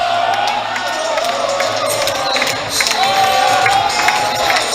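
A college basketball crowd at the YU Macs and Mount Saint Mary game cheers steadily, with whoops, scattered claps and a surge of noise partway through.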